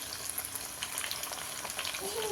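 Pieces fry gently in a pan over a low flame, giving a soft, even sizzle that stays quiet and steady throughout.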